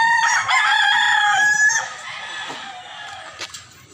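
A rooster, about one year old, crows loudly and close by in Consolacion, Cebu, one long drawn-out call that trails off, followed by softer clucking.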